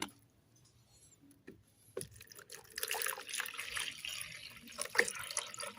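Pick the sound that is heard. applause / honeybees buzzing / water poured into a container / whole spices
water poured into a container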